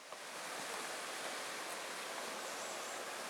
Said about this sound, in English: We'll be crossing the Little Carp River.